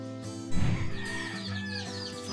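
Chickens cluck in a farm coop, a dense layer of hen calls with a louder burst of clucking early on, then steady overlapping calls close by with no talk.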